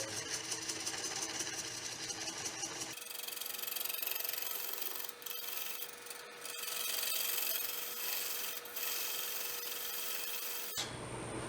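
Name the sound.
lathe tool cutting tenon on cottonwood bowl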